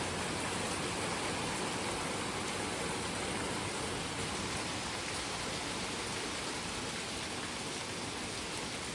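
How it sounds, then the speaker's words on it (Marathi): Heavy rain falling steadily on the way to Shindi Ganpati, a thick unbroken wash of drops spread evenly across the scene, fairly soft and constant with nothing else standing out. "तुम्ही बघू शकता पाऊस मस्त असा पडतो"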